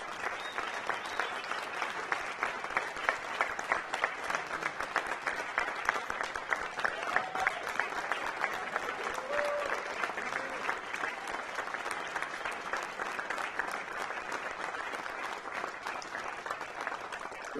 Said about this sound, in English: I'd like you to give both of those two a real round of applause.